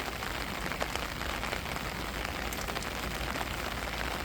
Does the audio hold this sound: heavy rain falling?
yes